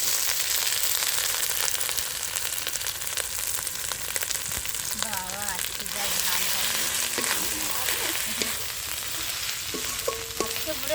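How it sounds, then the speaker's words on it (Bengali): Spice paste for a spicy village-style chicken curry frying in a pan, a steady close sizzle running throughout with some stirring scrapes, no talking. "মশলাটা ভালো করে ভাজে নিলাম"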